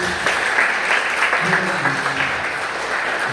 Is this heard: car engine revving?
no